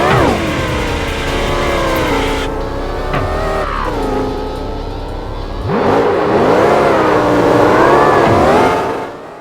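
Car engines rev and shift through gears in the racing video games Forza Horizon 5 and Amazing Curves Racing, a loud continuous whine rising and falling with throttle changes, no voices.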